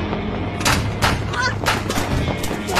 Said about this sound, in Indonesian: tiba-tiba terdengar suara ledakan seperti letusan bedil